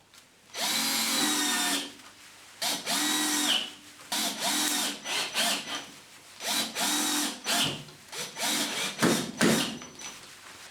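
A power drill drives screws to fix an overhead garage hanger angle to the ceiling, its whirring coming in irregular bursts of varying length, some clipped and stuttering, at moderate loudness.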